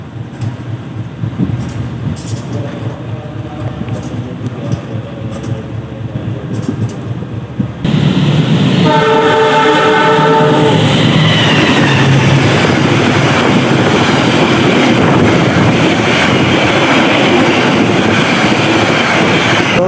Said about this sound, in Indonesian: lihat kereta api Sancaka menyusul kereta api Pasundan di stasiun Sragen